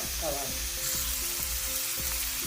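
Onions fry with a close, constant sizzle in a pan for a beef bone kappa biriyani, with a few soft stirring scrapes underneath.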